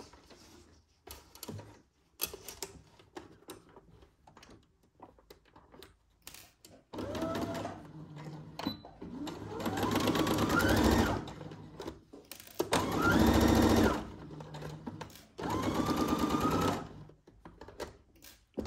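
A sewing machine stitches shoulder seams on a Simplicity 1802 Cynthia Rowley garment at a 5/8 inch seam allowance, running in several sustained whirring bursts of rising and falling speed with short pauses and soft handling clicks between them.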